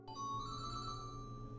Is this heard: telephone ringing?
yes